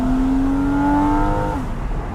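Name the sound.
Porsche 981 Cayman PDK engine revving after downshift to 2nd gear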